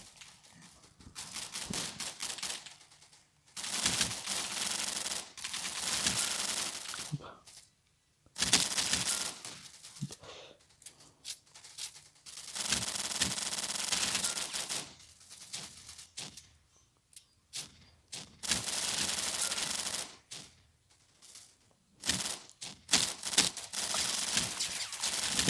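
Rapid bursts of gunfire from a shooting video game, loud dense volleys separated by short pauses and repeating through the whole stretch, with no talk over them.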